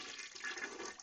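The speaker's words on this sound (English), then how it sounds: "And now we'll do the flush." Toilet flushing: a steady rushing wash of water lasting about a second, moderately quiet and close, with no voices.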